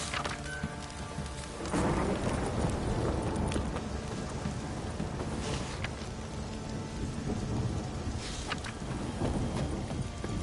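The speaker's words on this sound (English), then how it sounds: "This downpour's a bastard, it is." Steady rain pours down in a stormy downpour in the video game The Witcher, with rumbling thunder rolling in around the second mark and faint distant cracks later, loud and continuous with no talking.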